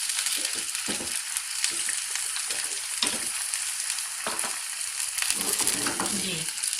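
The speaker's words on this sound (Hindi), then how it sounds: "अब मैंने फ्राई पैन में हल्का सा ऑयल डाला है, और इसके अंदर जो हम इसको फ्राई करेंगे।" Chicken fries in a little oil in a frying pan, a loud, continuous sizzle and crackle with uneven spattering bursts, close up and with no talking.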